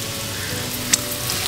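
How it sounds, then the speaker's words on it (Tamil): Garlic and curry leaves fry in hot olive oil, giving a steady soft sizzle throughout with one brief sharp pop near the middle, close and moderately quiet, with no talking. "எண்ணெய் சூடு வரதா நான் பூண்டு போட்டுக்கிறேன்."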